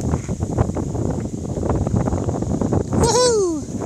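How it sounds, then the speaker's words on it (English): Gusty wind buffets the microphone in a low, uneven rumble, then a brief high whistling or squealing tone near the end. "It is a little windy and chilly"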